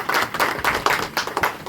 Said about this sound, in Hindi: मैं चाहूँगा कि जोरदार ताली।